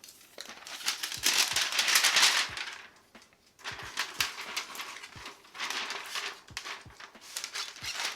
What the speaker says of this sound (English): Now what I'm going to do is basically open up the shrink wrap